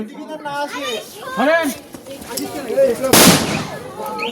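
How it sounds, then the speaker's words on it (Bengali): Fireworks crackle and burst at a wedding celebration, one sharp loud bang standing out late amid children playing and people talking nearby. "আতসবাজি হচ্ছে"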